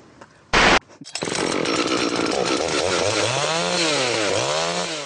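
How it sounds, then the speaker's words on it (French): A brief burst of noise, then a chainsaw roars up close and keeps running, its engine pitch rising and falling as it cuts firewood, near Angoulême, France. "Rémi a sorti la tronçonneuse pour couper du bois de chauffage"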